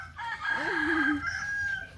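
A rooster crows once on a Thai farm raising large meat chickens, a loud, close two-second call rising and falling over low background farm noise.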